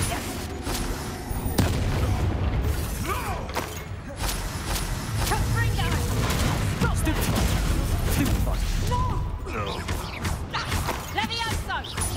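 In the Hogwarts Legacy video game, a Confringo spell explosion goes off during a spell-heavy battle, with loud booming blasts and crashes amid dense continuous combat noise and a person talking over it.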